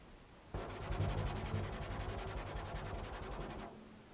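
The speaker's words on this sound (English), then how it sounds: "involves scraping the drum with the soft part of the finger." A fingertip pad scraped across a drumhead in solo percussion music, making a steady close rubbing hiss that starts abruptly, holds evenly for about three seconds with a faint fluttering texture, then stops.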